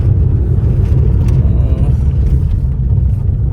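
Low, steady rumble of a small car driving along a village road, engine and road noise constant and close.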